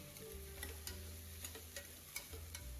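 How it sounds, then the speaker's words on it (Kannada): Cluster beans (gorikayi) fry in oil with a soft, quiet sizzle, faint crackles and occasional stirring clicks over a low hum, with no talking. "ಈಗ ಗೋರಿಕಾಯಿ ಹಾಕ್ತಾ ಇದ್ದೀನಿ. ಇದು ಎಣ್ಣೆಲಿ ಚೆನ್ನಾಗಿ ಮಗ್ಬೇಕು."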